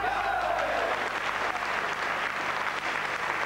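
Spectators applaud at a European Champions League table tennis match, a steady wash of clapping from the crowd throughout, with a faint voice briefly audible at the start.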